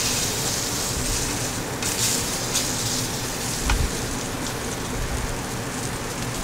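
A strip loin steak sears in a hot pan, giving a steady, close hiss and sizzle that runs unbroken throughout, with a brief louder spit partway through.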